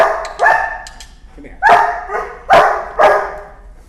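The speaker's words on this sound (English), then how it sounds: "German Shepherds only bark when they need something" A German Shepherd puppy barks in several sharp, loud, close yaps spaced about a second apart, after a person speaks briefly.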